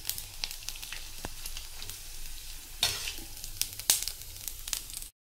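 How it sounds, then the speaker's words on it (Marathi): Sago and potato chakli deep fry in hot oil, a soft, continuous sizzle and bubbling with scattered crackles and a few sharper pops, heard close with no talking. "आता आपण ह्याला का नाही तळून बघू कशा होतात ती"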